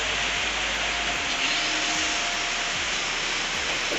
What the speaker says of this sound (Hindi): सो गाइस देख सकते हो बारिश आ चुका है